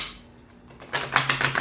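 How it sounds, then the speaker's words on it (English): Tarot cards riffle quickly in a burst of crisp, rapid flutters after a quiet moment, a close shuffle of a deck. "do 3 more shuffles."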